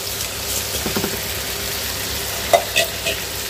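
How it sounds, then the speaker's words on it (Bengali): Radish and koi fish tipped into a hot pan of oil-fried spices, giving a steady frying sizzle with a few brief stirring scrapes and splashy bumps near the end, close and moderately loud. "মূলা আর মাছ একত্রে আমি ঢেলে দিব"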